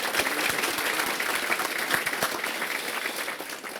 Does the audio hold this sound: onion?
no